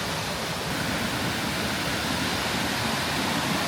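A waterfall on a mountain hike to Dinara in Croatia roars as a steady, loud, dense wash of falling water, unbroken throughout with no voices.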